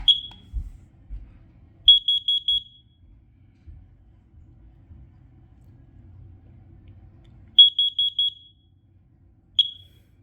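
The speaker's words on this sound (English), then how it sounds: "the carbon monoxide alarm is absolutely working. Let's go ahead and test it." A carbon monoxide alarm being tested sounds loud, sharp high beeps in short bursts, a single chirp, then a run of four, then another four and a lone chirp, with quiet handling noise between.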